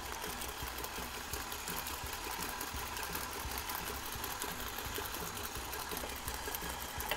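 An electric mixer beats Italian fig cookie dough as eggs are added, giving a steady, continuous mechanical whir with a buzzy motor drone that holds even and unbroken throughout, with no voices.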